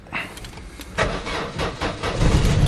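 A Vauxhall Astra Mk5 engine cranks and struggles to start, a near mechanical churn with repeated uneven surges and rising roughness, no clean catch.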